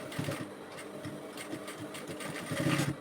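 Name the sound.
sewing machine stitching a reversible bonnet cap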